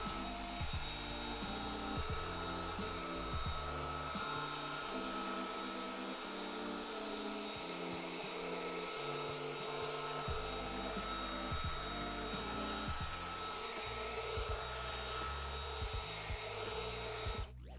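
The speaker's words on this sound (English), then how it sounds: "then I'm gonna use a drill brush" A continuous motorized whir of a spinning drill brush scrubbing grooves in a car interior, its pitch shifting as pressure changes, close and steady for the whole stretch.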